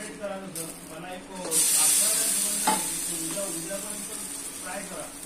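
Banana flour bhakri roasting on a tava over medium gas gives a steady soft sizzle and hiss, swelling louder partway through, with faint talk underneath.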